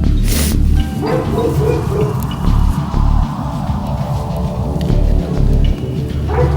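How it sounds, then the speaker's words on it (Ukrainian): Several dogs barking and yipping repeatedly outdoors near a house, loud and close, in uneven bursts over a steady background rumble. "собаки."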